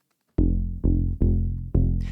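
A plucky, deep saw-wave synth bass from Vital, dropped an octave and processed with chorus and multiband compression, plays four punchy notes in an uneven rhythm. Each note hits hard and decays slightly, close and dry, with no voices.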